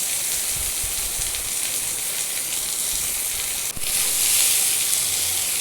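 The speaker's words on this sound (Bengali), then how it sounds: "এবার কেটে রাখা পেঁয়াজ কুচিটা দিয়ে পেঁয়াজটা ভালো করে লাল করে ভেজে নেব" Chopped onions fry in hot oil in a pan with a steady, bright hissing sizzle that carries on throughout and grows a little louder near the end, with no talking.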